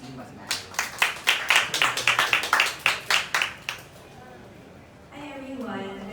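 Audience applause for a doctor being introduced at a skin clinic event, a burst of about three seconds of claps that fades into room murmur before a voice begins.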